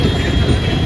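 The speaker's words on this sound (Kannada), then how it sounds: "ಮೆಟ್ರೋ ಬೇರೆ ಹೋಗ್ತಿದೆಯಾ ನೋಡಿ" A metro train rumbles past on a rainy day in Electronic City. Its deep, steady roar fills the whole brief moment, close and loud, with no pause.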